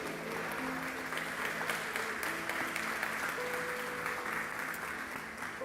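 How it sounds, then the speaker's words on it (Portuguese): A church congregation claps through a continuous round of applause at an evening service, steady and moderately quiet with a faint sustained tone beneath the clapping. "Você pode aplaudir a ele aí nessa noite?"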